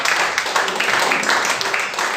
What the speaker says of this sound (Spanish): Denle una alabanza de aplauso al Señor.